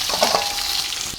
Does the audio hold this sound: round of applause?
no